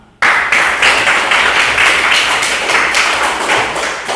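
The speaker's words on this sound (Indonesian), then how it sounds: "Untuk itu tepuk tangan untuk kita semua." Sudden burst of hand clapping from a classroom group of students, starting abruptly after a moment of quiet and continuing loud and close as a dense, uneven patter, with no talk over it.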